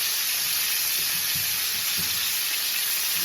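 Garlic herbed lamb chops sizzle loudly and steadily in a hot pan right after being flipped, a dense continuous frying hiss with faint clatter beneath and no talking.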